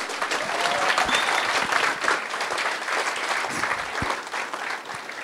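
Steady audience applause fills the room at a tech talk featuring Sebastian Thrun, dense and even throughout with a few sharper individual claps standing out.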